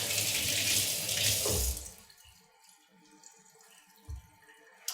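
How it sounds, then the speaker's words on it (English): Hands wash under a running kitchen tap, a loud steady gush of water that cuts off after about two seconds, followed by quiet drips and a soft clunk. "wash my hands really good"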